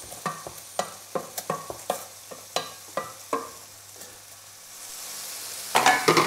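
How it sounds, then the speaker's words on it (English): Spinach stirred in a frying pan with a utensil: a run of sharp scraping strokes over a faint sizzle, pausing briefly before a louder burst of stirring at the end. "Again, give this a quick stir."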